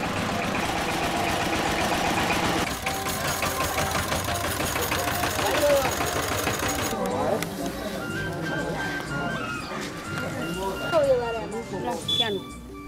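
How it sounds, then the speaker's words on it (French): Mini-tractor engines chugging through the narrow streets of a town in Nepal: a steady, loud mechanical rumble that carries throughout, with the clatter changing partway through and other street sounds mixed in. "Les mini-tracteurs ravitaillent la cité. Pas de danger, le bruit signale leur arrivée."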